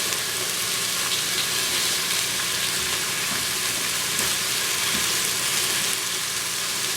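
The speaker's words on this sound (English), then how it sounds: "while my meat is browning" Beef browning in an Instant Pot, a dense continuous sizzle and crackle close up, steady and loud with no voices.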